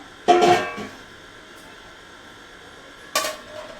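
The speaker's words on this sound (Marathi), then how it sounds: "झाकण ठेवणार आहे" A metal lid set onto a cooking pot while potato wafers are being made at home, giving two short clanks about three seconds apart with near silence between them.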